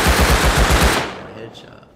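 Automatic gunfire in the video game Rust Console Edition rattles out in a fast, loud burst of about eight shots, then fades into a short echo.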